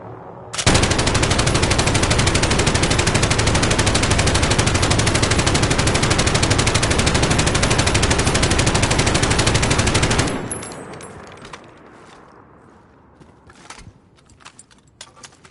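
Light machine gun in Call of Duty Warzone firing one long unbroken loud burst for about ten seconds, then stopping abruptly into faint clatter and scattered distant shots.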